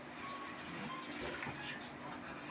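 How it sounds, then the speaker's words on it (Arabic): Water pours steadily into a cooking pot of softened onions for kebab halla, a soft continuous splashing and gurgling that stays fairly quiet and close. "بس هحط لها شويه ميه عشان هقفل عليها"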